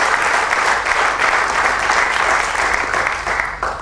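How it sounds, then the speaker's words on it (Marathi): An audience claps steadily and loudly at an awards ceremony, applause for Arun Kedar, a dense even wash of many hands that holds throughout and eases slightly at the end. "अरुण केदारांसाठी पुन्हा एकदा टाळ्या वाजवून त्यांच्या दातृत्वाबद्दल आपण कौतुक करूया"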